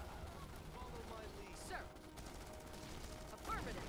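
Muffled gunfire from Starship Troopers Urban Onslaught crackles faintly under combat noise and swooshing effects, a low, sustained clatter during a battle against alien bugs.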